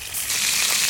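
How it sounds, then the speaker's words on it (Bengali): Hilsa fish frying in hot oil, a loud close bright sizzle that hisses steadily and intensifies after a brief moment. "মাছ দেওয়া হয়ে গেছে, এখন এটাকে ভাজবো"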